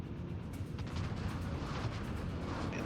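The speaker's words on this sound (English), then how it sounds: "Now he is shooting at me" Incoming enemy battleship shells in a naval video game produce a continuous heavy rumbling roar of distant booms and blasts, steady and loud without talking.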